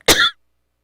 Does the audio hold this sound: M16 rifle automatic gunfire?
no